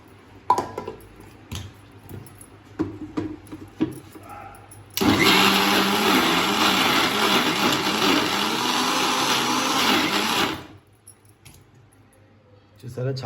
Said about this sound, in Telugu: ఇది మనం మిక్సీ పట్టించేసుకుందాం. మనం గ్రైండ్ చేసుకుందాం అండి ఒకసారి.